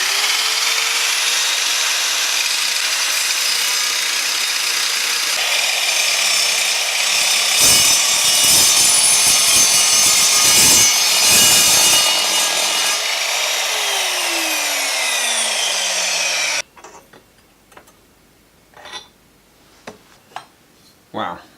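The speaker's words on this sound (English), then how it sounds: "We want to cut the steel tube." An Evolution R210SMS chop saw with a new blade cuts through steel tube, its motor a loud continuous whine with the grinding bite of the cut rising midway, then the saw winds down to near silence with a few scattered clunks.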